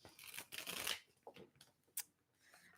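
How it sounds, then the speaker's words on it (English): Tarot cards are shuffled close by, a quick riffling flutter in a few short bursts separated by brief quiet gaps. "I'm feeling like I need to shuffle one more."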